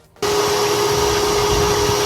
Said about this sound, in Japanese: ちょっと汚いからこれを掃除機かけて反対側もやって